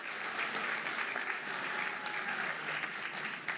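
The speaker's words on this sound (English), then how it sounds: "Let's give her a big round of applause once again." Sustained, dense applause fills a senior officials' performance contracts signing ceremony, a steady roar of many hands clapping from start to finish without pause.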